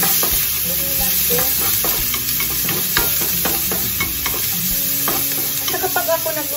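Onions fry in a pan for squid adobo with a loud, close, continuous sizzle and crackle. Repeated scraping stir strokes run through it, with no talk.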